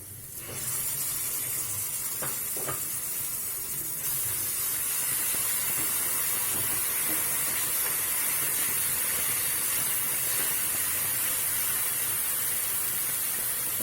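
Ginger garlic paste fries with browned onions in a home kitchen, giving a steady, even hiss and spatter that holds at a moderate level throughout, with no talking.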